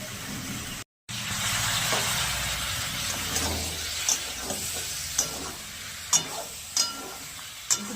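Turmeric, sugar and tomato paste sauté in a hot pan for a new-potato posto with bori, making a steady close sizzle and hiss broken by a few sharp clinks of stirring.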